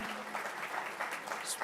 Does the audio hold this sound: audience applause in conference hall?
yes